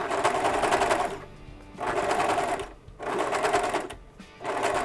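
Serger stitching a decorative ladder stitch with flat-lock settings, loud rapid mechanical chatter running in three bursts separated by brief pauses.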